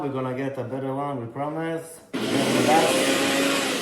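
A Ninja food processor blending keto chicken sushi ingredients starts abruptly with a loud, steady, grinding whir after a short stretch of talk.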